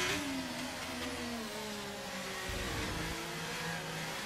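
Formula 1 car in the F1 23 video game racing at Canada: a loud, continuous high-pitched engine whine, with revs falling and climbing through gear changes and other cars roaring nearby.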